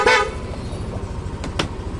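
A stock horn on a Yamaha NMax V3 scooter gives a short, loud honk at the start, and two brief fainter toots follow later over a steady idling engine.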